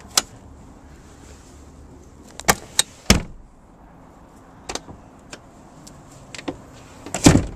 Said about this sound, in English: Very easy to drop these seats.